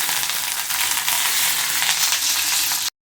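Green chillies and garlic sizzle in hot oil in a pan, a steady loud broadband frying hiss that continues evenly without pause before cutting off abruptly near the end.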